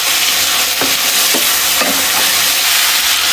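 A spatula stirs a spiced vegetable curry with ground coriander in a pan over a loud, steady sizzle, with about three distinct scraping strokes close by.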